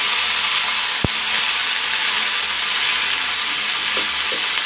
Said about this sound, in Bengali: এখন এই যে মিষ্টি কুমড়োটা ভেজে নেব।